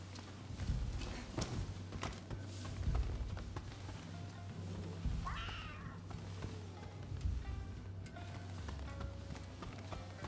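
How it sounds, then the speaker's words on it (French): Cat meowing in the samurai action game Rise of the Ronin, a brief plaintive call rising midway through over steady game ambience, hoofbeat-like clopping and low rumbling background sounds. "En fait, il y a un chat."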